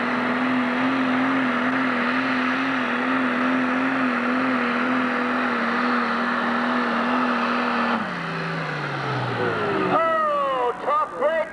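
Pro Stock pulling tractor engine at a 1997 tractor pull in Urbana, Ohio, a loud sustained drone that falls in pitch, then rises again, with an announcer talking over it throughout.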